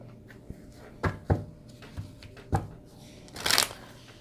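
A deck of Kipper fortune-telling cards being shuffled by hand close up, several soft riffles and taps ending in a longer burst of shuffling.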